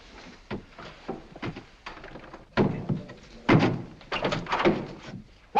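A series of irregular hollow thunks and knocks in steam-heated water pipes, some faint and some louder, clattering in bursts with no voices.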